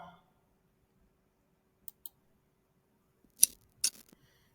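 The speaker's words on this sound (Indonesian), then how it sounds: "Maka di sini klik rekam." Computer mouse clicks pressing the record button in accounting software, a few sharp isolated clicks, two faint ones then two louder ones, in a quiet room.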